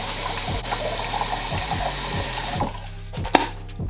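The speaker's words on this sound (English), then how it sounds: "So you put a little bit of water in the kettle like so." Tap water runs steadily into a kettle, a close, continuous rushing and filling sound with a faint pulsing hum underneath, ending with a few small clunks as the flow stops.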